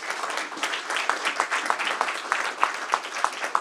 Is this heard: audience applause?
yes